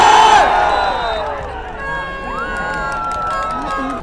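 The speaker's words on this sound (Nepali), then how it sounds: "गण्डकीलाई निकै हुटिङ पाएको छ" A volleyball final crowd cheers, whoops and hoots for Gandaki in a loud burst that fades into ongoing shouting and chatter, with voices and a commentator speaking over the noise.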